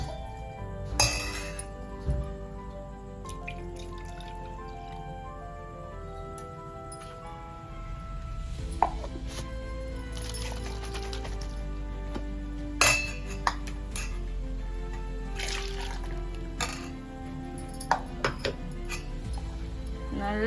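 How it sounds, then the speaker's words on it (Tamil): Ground millet flour is stirred into water in a metal bowl for a traditional kambu koozh, with irregular clinks and scrapes of a spoon against the bowl over a quiet background. "நல்லா லங்ஸ் இல்லாம கரைச்சு விட்டுக்கோங்க"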